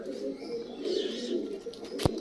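Pigeons in a breeder's loft coo softly and continuously, close by, with a brief sharp knock near the end.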